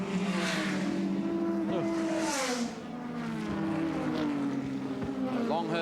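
Touring car race engines scream through a reverse-camber left-hander at Lakeside circuit in 1989, several cars passing with shifting, wavering pitch and a tyre squeal, loud and continuous under a commentator's voice.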